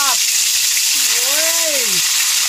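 Catfish frying in hot oil outdoors, a steady loud sizzle filling the whole clip, with a tonal whistle-like sweep rising and falling over it.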